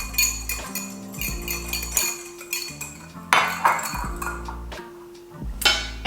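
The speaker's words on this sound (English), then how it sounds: "Just whisk this up." Cinnamon and sugar being whisked in a bowl for hand pie topping, with repeated metallic clinks and scrapes of utensil against the bowl in uneven bursts, close and fairly loud.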